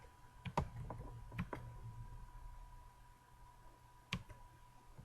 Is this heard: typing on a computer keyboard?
yes